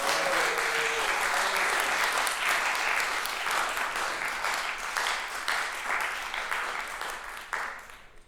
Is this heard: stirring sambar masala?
no